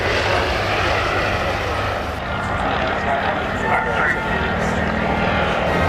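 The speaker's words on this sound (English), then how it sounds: "you see him now really putting this Swordfish through its paces" A Fairey Swordfish biplane performing at the Southport Airshow 2015, its propeller engine droning loud and steady throughout, with an announcer talking over it.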